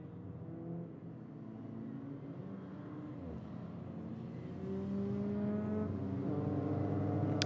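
Race cars and a safety car lapping the Paul Ricard circuit at Le Castellet during an Ultimate Cup Series round, engines droning and rising as cars pass, growing louder toward the end, with no talk.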